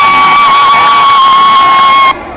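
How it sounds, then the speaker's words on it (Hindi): A large crowd at a political rally in Lucknow makes a loud, dense roar with a steady high whine over it, which cuts off abruptly near the end. "गजब की भीड़ है भाई, गजब।"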